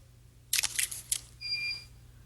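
A studio SLR camera fires at f11 in a tethered flash shoot, giving a close burst of crisp shutter and mirror clicks followed by a brief high electronic whine, like a flash recharging.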